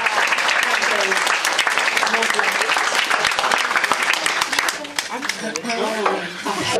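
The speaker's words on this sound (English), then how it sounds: "Please give the ladies a lovely round of applause." Warm, sustained applause from a live audience honouring performing ladies at an evening show, dense clapping filling the whole stretch with a slight dip near the end.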